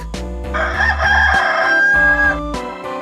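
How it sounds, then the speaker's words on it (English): A rooster crows once, loud and close, in a long drawn-out cock-a-doodle-doo, with a few short clicks around it and no talking over it. "Cock."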